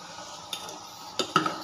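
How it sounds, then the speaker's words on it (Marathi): Sabudana being mixed with salt and spices in a bowl for sabudana khichdi gives a few light, sparse clinks of a spoon against the bowl, quiet and close, with no talking. "ह्या सगळ्या गोष्टी मी खालीच मिक्स करून घेते"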